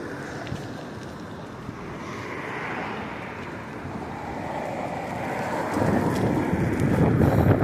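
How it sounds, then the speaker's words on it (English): Strong wind buffets the microphone of a cyclist riding through the Yonge and Bloor intersection in Toronto, a steady broadband roar that swells louder toward the end, with no talking. "probably the windiest corner in Canada"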